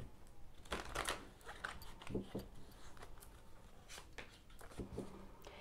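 Tarot cards being shuffled, a steady papery riffle with soft slaps and flutters throughout, close and quiet.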